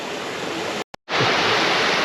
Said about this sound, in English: that's this waterfall over here right in front of me